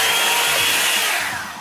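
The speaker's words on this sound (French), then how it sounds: "Ce que j'aime particulièrement dans un sèche-cheveux, c'est que ça me sèche les racines." A Revlon Perfectionist 2-in-1 hair dryer brush runs with a steady, loud airy whir close up, holding constant and easing down slightly at the end.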